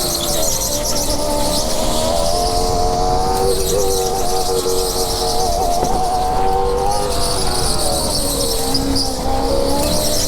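A go-kart racing at high speed on a track, its small engine whining loud and steady with shifting pitch throughout, tires squealing through the turns.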